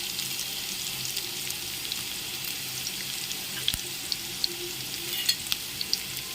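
Potato samosa filling with asafoetida and garam masala is stirred in a hot frying pan, giving a steady, even sizzling hiss throughout, broken by a few small clicks and taps from the spoon, with no voices.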